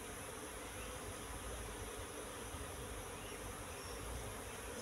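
Wild Apis cerana bees buzz in a dense, continuous swarm hum, steady and fairly faint, with no voices over it.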